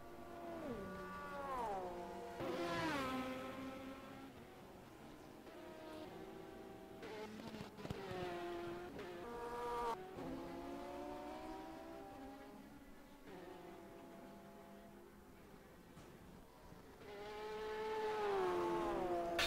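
GT race cars circulating at the 24 Hours of Le Mans: several engines whine past in turn, their pitch sliding up and down as they accelerate and lift, forming a continuous layered drone with no voices.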